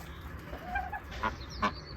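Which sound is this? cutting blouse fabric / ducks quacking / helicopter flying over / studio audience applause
ducks quacking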